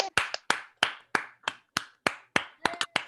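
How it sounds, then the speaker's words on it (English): A handful of people clap for medical professionals at eight o'clock, about a dozen sharp, uneven claps close by over three seconds, with a quick flurry near the end and no talking. "this is where we pause and we clap for our medical professionals"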